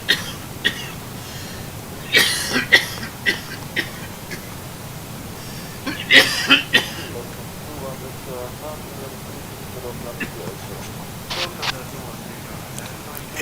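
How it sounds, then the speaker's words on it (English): Coughs and throat clearing come in short bursts over steady cockpit hum on a flight deck of a PMDG 737-800 simulator setup, with a voice also present. "Is that cough that comes out of nowhere"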